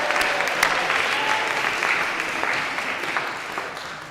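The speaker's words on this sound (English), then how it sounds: "Can we have a little applause for the sun?" A church congregation applauds together in a sustained burst of clapping that stays steady and fairly loud, tapering slightly toward the end, with a faint murmur of voices underneath.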